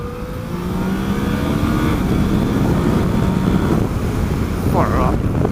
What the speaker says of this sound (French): Bon, le bruit moteur.